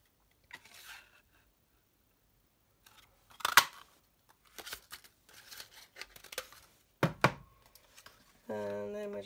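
Scissors snip a 1 1/2 inch paper circle for a stamped scissor charm gift, giving several short sharp crisp cuts with pauses between them, close and clear, followed by a brief tonal mechanical sound at the end.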